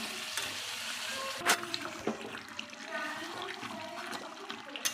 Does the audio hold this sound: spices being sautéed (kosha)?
yes